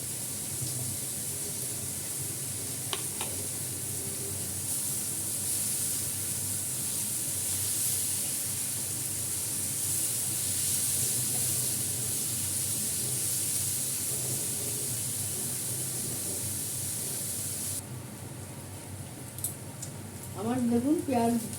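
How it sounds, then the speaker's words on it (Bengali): Thinly sliced onion rings fry in a pan with a steady, bright, close sizzle that runs unbroken for most of the time, then drops away near the end, where a few clinks and a brief voice come through. "আমার দেখুন পেঁয়াজটা ভাজা হয়ে গেছে, সুন্দর গন্ধ বেরিয়েছে।"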